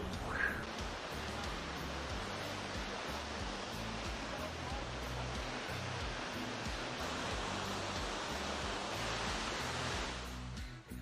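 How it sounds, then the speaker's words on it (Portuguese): Water roaring through an opened dam gate and plunging in a huge waterfall, a constant, powerful rushing wash that holds steady throughout and only eases at the very end. "Dá uma olhada na escala dessa cachoeira."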